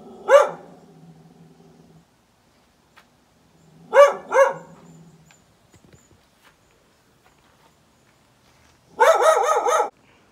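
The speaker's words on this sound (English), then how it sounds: "Here she barks at me all day." A dog barks in short separate bursts close by, a double bark early on, then a pair midway and a loud rapid volley at the end, with quiet gaps between and no talking.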